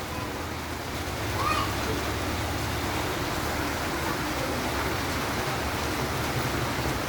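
Heavy monsoon rain falling outdoors, a dense, steady broadband roar of downpour that stays loud and unbroken throughout.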